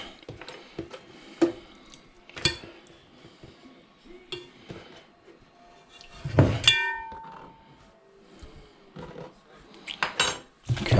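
Utensils clink and scrape against a bowl as leftover breakfast fritter ingredients are mixed, with irregular close clatters and knocks separated by quieter pauses.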